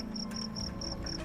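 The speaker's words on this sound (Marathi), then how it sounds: "रातकिड्यांचा गजर सुरू होता" Crickets chirp at night in an even, pulsing rhythm, about five high, clear chirps in quick succession. Steady low background noise runs underneath.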